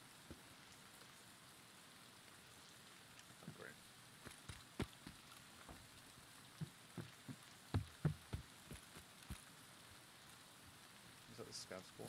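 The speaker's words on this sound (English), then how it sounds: "Yeah, it's always raining," In Escape From Tarkov, rain falls in a continuous soft hiss, and scattered knocks and clicks grow busier toward the end. Nobody talks.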